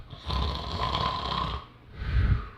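A voice imitating snoring: two drawn-out, rasping snore sounds, the first long and the second shorter and deeper, loud and close with no other speech.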